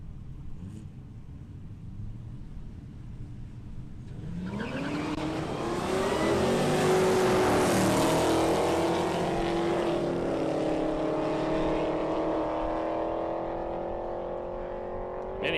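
Commodore drag car launching down the strip at Palmyra Raceway, a loud engine roar building to a sustained high-revving wail as it accelerates away, heard alone without talk.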